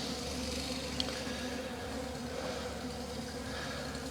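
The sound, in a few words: bees flying back to the hive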